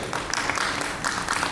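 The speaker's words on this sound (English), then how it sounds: "Please give me a round of applause." Audience at a medical education lecture on ethics of artificial intelligence in health care gives a round of applause, a dense, even patter of many hands, moderately loud and steady.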